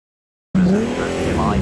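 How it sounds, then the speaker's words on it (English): A powerful vintage Bugatti Type 35 Grand Prix racing engine bursts in after a moment of silence and holds a loud, rough, steady drone close by. "Early Grand Prix cars, the Type 35"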